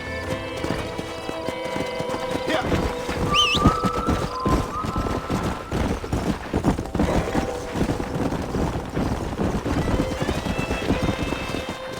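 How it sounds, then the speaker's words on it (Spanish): A horse in the Western video game Red Dead Redemption gallops with rapid hoof clip-clops, snorts and a whinny, mixed with game music and ambient noise under the action. "puto caballo pendejo"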